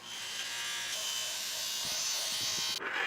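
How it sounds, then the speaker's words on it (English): A motorized polishing tool buffs the metal of an 1874 French Gras bayonet during restoration, giving a steady, close, high buzzing whir that runs throughout and cuts off briefly near the end. "Finally, polishing."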